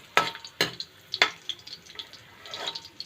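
Chicken sautéing in a pan, soft sizzle broken by a few sharp clattering knocks and scrapes of stirring, fairly close and quiet.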